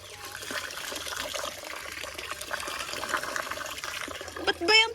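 Water splashes and trickles steadily into a bucket at close range, a continuous wet pouring sound that swells to a louder splash near the end.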